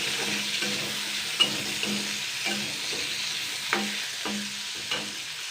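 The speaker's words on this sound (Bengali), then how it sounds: "জাস্ট 2 মিনিট মতন হালকা নাড়াচাড়া করে নেব।" Potatoes and aubergine frying together in a pan, a constant bright sizzle broken by repeated rhythmic scrapes of a spatula stirring, with a few sharper knocks against the pan.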